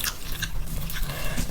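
Close biting and chewing of spicy mutton mandi with spicy sauce, a run of crisp crunches and soft wet mastication sounds up close, with no talking.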